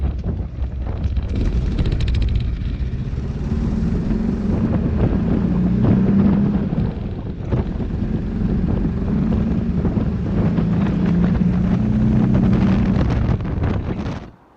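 A Porsche 914 2.0 with a new exhaust idles roughly with a loud, steady rumble that is partly buried under heavy wind buffeting on the microphone, before it cuts off at the very end.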